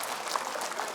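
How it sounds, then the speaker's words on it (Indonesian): An audience at an Islamic religious talk claps briefly, a dense soft patter of many hands heard at moderate distance. "Pinter, tepuk tangan."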